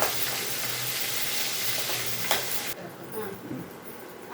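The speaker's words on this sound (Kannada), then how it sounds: "ಇವಾಗ ಈರುಳ್ಳಿ ಹಾಕ್ತೀನಿ ನೋಡಿ. ಕರಿಬೇವು ಹಾಕಿದ್ದೀನಿ." Onion and curry leaves drop into hot oil already holding mustard and cumin seeds, with a loud crackling sizzle up close that suddenly eases into a softer frying hiss.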